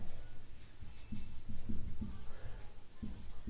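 Pen scratching on paper while writing an accounting entry, a series of short soft strokes in irregular rhythm, close and quiet, with no speech.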